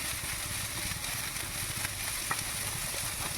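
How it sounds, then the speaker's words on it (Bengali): Sliced carrot and cabbage stir-fry for chow mein under a constant loud sizzle with a low rumble beneath and a few faint scrapes of stirring. "বাঁধাকপি লম্বা লম্বা করে কেটে রাখছি, একটু নাড়াচাড়া করে নেব।"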